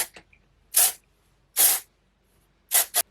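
Dove dry shampoo from an aerosol can sprays in four short hissing bursts, the last two close together, each followed by silence.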